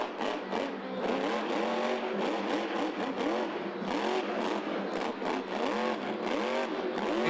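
The Gravedigger Monster Jam truck revs its engine hard in a rapid, rhythmic throttle pattern inside Sam Boyd Stadium in Las Vegas, the roar repeatedly climbing and dropping in quick bursts and sounding distant but continuous.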